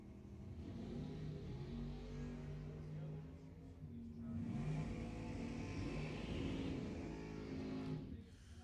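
A dragster and a Nova race at Lebanon Valley Dragway, engines roaring and whirring at a distance with a rising rush of acceleration over several seconds, faint and steady, with a faint voice underneath.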